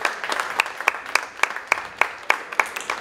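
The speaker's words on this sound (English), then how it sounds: "give him another round of applause" At a polo match at The Villages Polo Club, people clap for the groom with sharp, evenly spaced claps in a steady, quick rhythm, close and clear with no talk over them.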